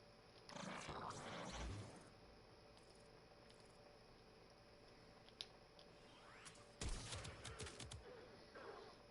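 Bursts of rapid-fire energy weapon shots from the Mara Detron in Warframe, two dense clusters of fire near the start and again later, over a quiet game background.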